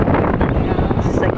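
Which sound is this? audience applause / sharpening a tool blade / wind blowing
wind blowing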